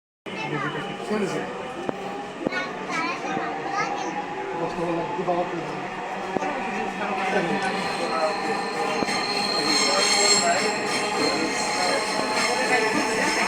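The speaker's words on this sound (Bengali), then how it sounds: "ট্রেনটি গন্তব্যস্থল মতিঝিল, পরের স্টেশন উত্তরা সেন্টার।" Dhaka metro rail train running toward Motijheel, a steady loud rumble with rising wheel and motor whine and some squeal, announcement-style voice and talk mixed in throughout.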